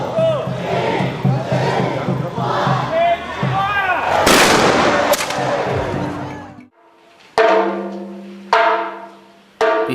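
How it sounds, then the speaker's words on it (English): A town militia fires a celebration salvo, booming cracks that echo over crowd noise and cheering, followed by several sharp separate shots with ringing tails. "The town militia prepared to fire a celebration salvo"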